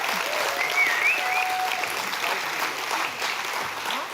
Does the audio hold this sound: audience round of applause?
yes